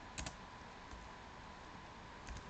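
Faint keystrokes on a computer keyboard while a text cell is typed into a Python notebook, with a couple of soft clusters of clicks near the start and end over a quiet, hissy room background.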